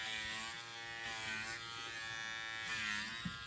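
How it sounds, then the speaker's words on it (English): Steady electric clippers buzzing continuously as they shave the belly wool of a female Angora rabbit, a close, even hum with slight shifts in pitch as the blade moves through fur. "we are shaving the belly of the female Angora"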